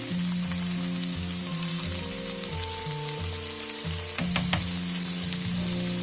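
A macaroni and keema mixture with chili sauce fries in a pan with a continuous close sizzle and crackle, while a steady low hum runs underneath and a few sharper spatters sound near the end.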